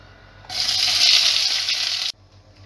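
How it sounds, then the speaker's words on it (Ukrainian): Chopped bell pepper hits a hot pan on high heat, setting off a loud, steady hiss of frying that holds for about a second and a half, then cuts off abruptly. "Тепер обсмажуємо на сковорідці на великому вогні наш нарізаний перчик."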